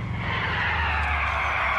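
A car in GTA IV sliding through a handbrake turn, its engine drone steady beneath a broad, continuous tyre skid lasting the whole moment, loud and close with no talking.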